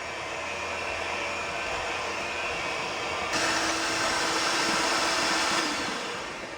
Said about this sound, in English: we're going to beat this really good with a mixer until it's kind of creamy